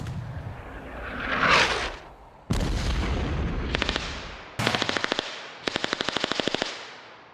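Machine gun barrage in a WWII battle scene: a rising roar, then sudden loud bursts of rapid automatic fire in several separate volleys, each rattling off in quick, sharp repeated shots.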